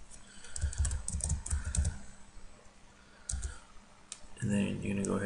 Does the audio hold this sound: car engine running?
no